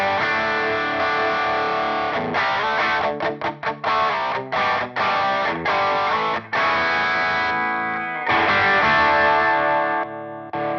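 Guitar runs through a preset on a Chase Bliss and Analogman Brothers AM overdrive pedal, with loud distorted chords, quick choppy stabs and ringing sustained notes, and no voices.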